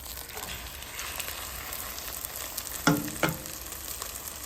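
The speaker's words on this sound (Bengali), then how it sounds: "ডিমটা ভেজে নিচ্ছি, পাউরুটিগুলো ভাজা নিচ্ছি" Egg and bread slices frying in a home kitchen pan, giving a steady soft sizzle throughout with two brief louder clatters of stirring or turning near the end; no talking.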